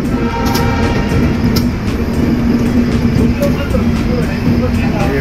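The Kamrup Express pulls out of Chaparmukh Junction with a steady, loud rumble of rolling carriages and a faint high whine. The noise stays constant throughout, and voices can be heard underneath it.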